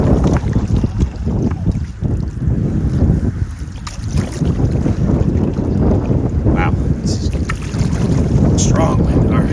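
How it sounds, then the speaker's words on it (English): Strong wind buffets the microphone while paddling a canoe on open water, a loud continuous roaring rumble with gusty swells and faint water splashes throughout. "Strong wind."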